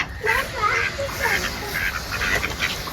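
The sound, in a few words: duck quacking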